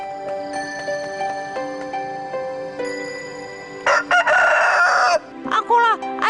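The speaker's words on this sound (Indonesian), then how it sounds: "Tenang, kalian pasti akan dengar ayamku berkokok." A cartoon rooster crows loudly in an Indonesian folk legend animation, two bursts of crowing standing out clearly over background music.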